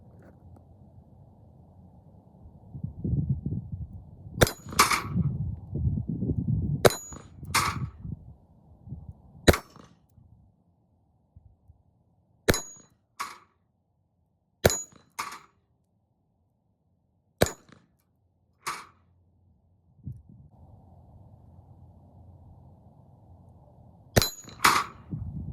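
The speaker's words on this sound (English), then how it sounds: "we'll shoot 98 grain lead round nose PPUs with the Smith and Wesson third model hand ejector" Sharp shots from a Smith and Wesson third model hand ejector revolver firing .32 S&W Long 98 grain lead round nose rounds at a range, about ten loud, separate cracks at irregular spacing, with an early cluster over faint background noise.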